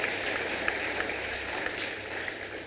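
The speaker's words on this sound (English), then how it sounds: "Let's all give a round of applause to UNICEF for the support that it is giving to us." Crowd applause at an outdoor World Water Day celebration in Fiji, a steady, moderately loud patter of many hands clapping for a few seconds.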